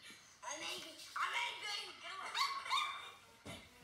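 High, tinny puppy yips and whimpers repeat in quick succession from a phone speaker, small, thin and fairly faint, heard by a Miniature Schnauzer.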